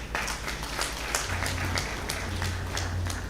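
An audience claps for a book unveiling at a graduation lecture of an Executive Intelligence Management Course. The applause is steady and moderately loud, with distinct individual claps over a low hum, and no one speaks.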